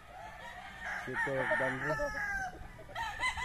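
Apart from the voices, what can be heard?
roosters crowing at a gamefarm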